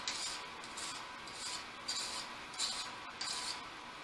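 A metal file rasps across the edge of a steel card scraper in a few short, gritty strokes, each a bright scraping burst with brief pauses between, close and alone.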